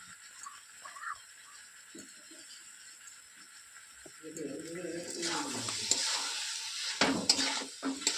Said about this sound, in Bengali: এবারে ভালো করে মশলার সঙ্গে আমরা কষিয়ে নেব।